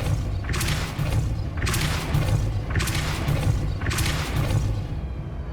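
Depulso spell cast in the video game Hogwarts Legacy, four loud whooshing bursts, each rising then fading, repeated at about one-second intervals over a steady low rumble.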